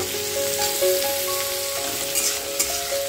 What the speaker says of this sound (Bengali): টমেটোটা দিয়ে খুব ভালো করে একটু নাড়াচাড়া করে নেব